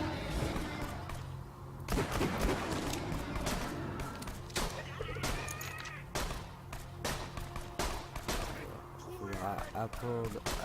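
Sniper rifle fire in the video game Borderlands 2, heard as several sharp loud shots over busy game music and effects, with a player talking through much of it.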